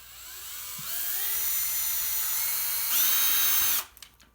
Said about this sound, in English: poke a hole, put it exactly where you want it, and then drill through.